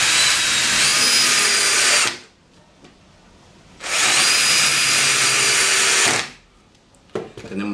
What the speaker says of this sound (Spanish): vamos a proceder al atornillado